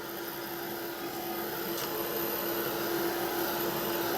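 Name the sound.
heat tool drying pen ink on a craft page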